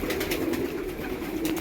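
Domestic pigeons coo steadily in a large loft, a low continuous murmuring of several birds heard close, with no talk over it.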